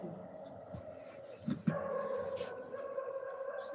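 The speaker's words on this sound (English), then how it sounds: "Oh my god, dog barks." A dog barks a few times in the background, short sharp yelps over a steady hum of household noise.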